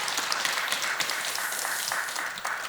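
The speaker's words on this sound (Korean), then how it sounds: "홍보대사님하고 수석부회장 세 분께 박수 한번 다시 한번 보내면" A temple congregation at a Buddhist sermon gives a brief round of applause, with dense, fairly close clapping sustained evenly throughout the short stretch and no talk over it.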